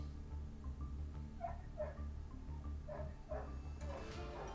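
Loud, excited dog barking comes in uneven clusters of short yaps, nearby, over a steady low hum, with a quick flurry of barks near the end.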